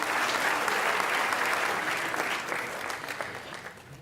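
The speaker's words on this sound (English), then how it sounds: "A round of applause for Alf and Nadia Taylor" At an ethnic business awards gala dinner, a crowd applauds nominees with loud, dense clapping that holds steady, then gradually thins and fades toward the end.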